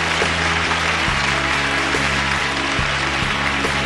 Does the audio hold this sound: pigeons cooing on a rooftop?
no